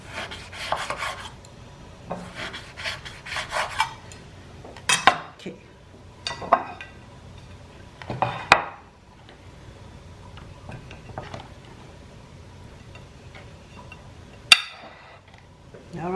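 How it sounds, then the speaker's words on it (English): A knife slices pork belly into pieces on a board, giving repeated scraping and knocking strokes in bursts with pauses, fairly close and clear, without speech. "Let's cut the pork belly into the pieces"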